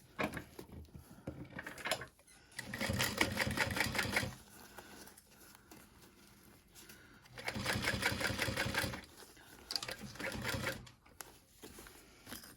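A sewing machine runs along the edge of a backpack in two long, loud bursts of fast stitching, separated by quieter pauses with light clicks and handling noise.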